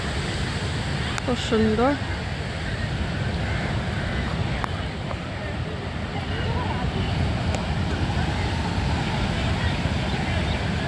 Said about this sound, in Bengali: সমুদ্রের কি আওয়াজ, জানি না আওয়াজ শোনা যাচ্ছে কিনা, অসম্ভব আওয়াজ